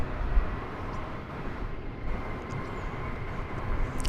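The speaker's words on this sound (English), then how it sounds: "This is American Airlines Flight 1670 from Philadelphia, the city of brotherly love." An American Airlines passenger jet arriving at DFW Airport from Philadelphia, a low, distant, steady engine rumble with a faint whine, quiet and continuous.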